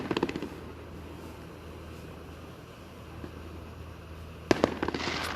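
Fireworks go off in a neighborhood at night, a few sharp distant bangs and crackles at the start and a louder burst of cracks near the end, with a quiet hiss in between.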